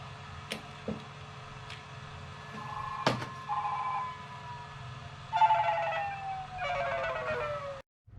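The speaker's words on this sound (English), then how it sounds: "I got a phone call and I had to take it." A phone rings in a workshop during soldering repair work on a BMW CCC unit, its tonal ringtone bursts coming in bright repeated phrases over a steady background hum.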